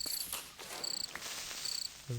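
Crickets chirp in Minecraft, a modded game world, in short high repeated trills with other game sounds in between.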